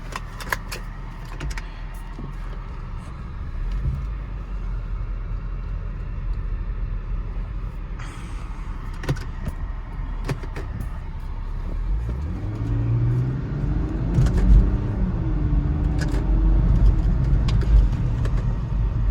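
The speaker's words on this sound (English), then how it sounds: "Let's take the car for a drive and see if we have all 5 gears." Low engine rumble of a five-speed manual car on the move, with a rising rev as it accelerates partway through, plus scattered clicks and road noise; no talking.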